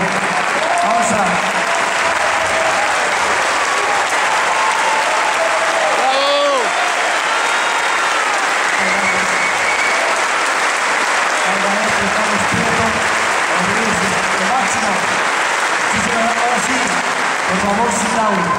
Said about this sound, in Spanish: Un aplauso muy fuerte para su Mónica, por favor.